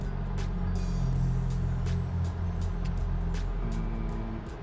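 A turbocharged E85 engine running on Holley EFI without an intercooler, droning steadily at high revs close to the rev limiter, with its pitch holding and then dropping slightly near the end, and sharp ticking pops throughout.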